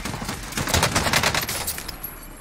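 A burst of rapid AK rifle fire, loud and dense, rattling continuously for about two seconds before tapering off.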